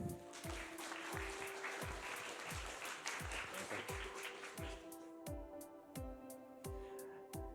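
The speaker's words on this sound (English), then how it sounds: "Big round of applause for them" Audience applause for a university game jam team at its presentation, a steady wash of clapping over a rhythmic music beat, fading toward the end.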